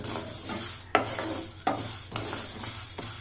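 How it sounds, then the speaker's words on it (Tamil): Coriander seeds dry-roast in a pan as a spoon stirs them, making a steady rustling sizzle broken by a few sharp scraping strokes, close with no voices. "நல்லா வறுபடணும் தனியா, அப்போ தான் நல்லாயிருக்கும்."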